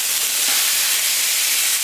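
Ribeye steaks sizzle on a Camp Chef flat top griddle as a steady, close, broadband hiss that holds unbroken for about two seconds.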